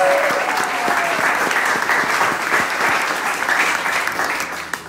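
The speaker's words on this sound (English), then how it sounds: "Let's give your sheriff a great round of applause." A crowd at a political rally in Sarasota County, Florida applauds the county sheriff, with loud, dense, sustained clapping that stays steady and then tapers slightly toward the end, with no talking over it.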